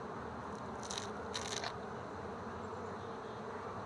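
Honey bees buzzing at an open hive box during early spring inspection, a dense continuous hum close by with a couple of louder passes of individual bees near the microphone.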